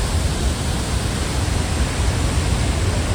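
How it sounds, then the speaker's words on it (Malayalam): Athirappilly waterfall in the monsoon, heard from below at its base: a loud, steady, unbroken roar of falling water that fills the whole clip with no voices. "വെള്ളച്ചാട്ടത്തിൻ്റെ താഴ്ഭാഗം"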